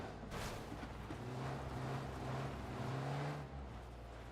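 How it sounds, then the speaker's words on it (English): Engine drone of cars driving in the PUBG battle royale game, a steady low rumble with a rising tone that holds for a few seconds, fairly quiet and distant, with no talk. "They'll be able to hear both the cars."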